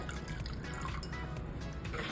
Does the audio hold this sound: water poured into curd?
yes